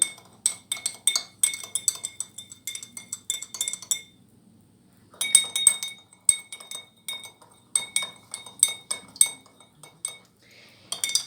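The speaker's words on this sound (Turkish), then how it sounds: "Diğer bardağı ise yarım çay kaşığı kadar tuz döktüm ve bunları karıştırıyorum" A metal spoon stirs salt into water in drinking glasses, making rapid bright clinks against the glass in quick bursts, with a pause near the middle before the clinking resumes, close and clear with no talk.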